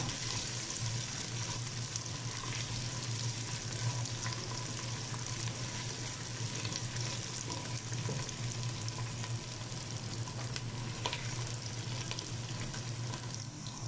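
Onions, tomatoes and vegetables sauté in a pot for lentil soup, producing a steady, dense sizzle with faint stirring throughout and no speech.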